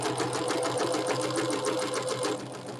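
A sewing machine stitches a quilt block, its needle running in a fast, steady mechanical chatter, close and continuous before easing slightly at the end.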